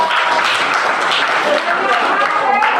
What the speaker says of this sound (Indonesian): Beri tepuk tangan untuk Batik Koyubita